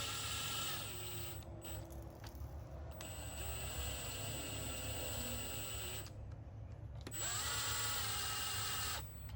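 A cordless power tool runs bolts down on an LQ4 6.0 V8 engine block in a shop, whirring in long close bursts with brief stops between, then one final run after a pause.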